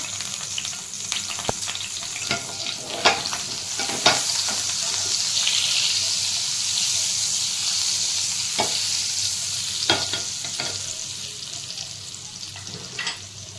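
Butter frying in a pan while cooking pav bhaji, a steady broadband sizzle with occasional stirring clicks and scrapes, no voices.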